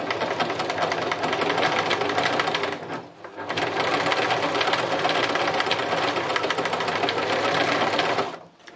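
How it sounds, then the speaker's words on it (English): A sewing machine runs a straight stitch during free-motion machining, a loud, steady, close whirring hum that stops briefly around the middle and then continues to the end, with no talking. "Oops, I suppose I could put the machine on, that would help."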